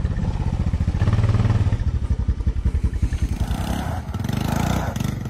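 Four-wheeler ATV engine running close by, a loud pulsing chug with rhythmic throbbing that steadies and shifts, briefly rising as if revved.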